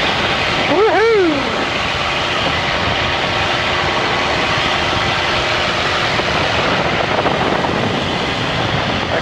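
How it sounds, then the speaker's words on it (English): Stunt plane engine roaring steadily as it accelerates down a runway for takeoff, a loud continuous drone with a brief whooping voice near the start. "we're just accelerating down the runway, and about here we'll go up"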